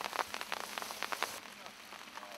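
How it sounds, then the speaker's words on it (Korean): Light rain begins to fall at a fishing reservoir in Boryeong, South Korea: faint, irregular patters and ticks of drops, quiet and close, thinning to a soft hiss. "비가 오기 시작하네"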